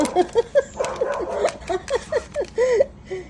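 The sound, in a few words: dog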